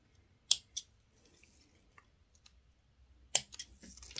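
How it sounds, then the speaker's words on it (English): Sewing scissors snip a tiny bit from the fabric edges of a seam allowance on a sunglasses case: a quick pair of crisp clicks, a quiet pause, then another short burst of snips close by. "I'm just going to snip just a tiny, tiny little bit right on the edges there"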